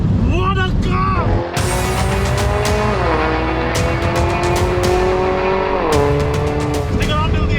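A Mercedes-AMG A45 S 4Matic+ hatchback engine screams loud and close at its limit, its pitch climbing through several gear shifts with brief drops between, sustained at full throttle.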